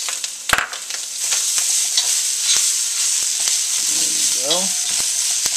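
Sweet red peppers hit a hot pan for fried rice made with leftover jasmine rice, a loud continuous sizzle close up, with a brief clatter at the start and a short spoken remark near the end.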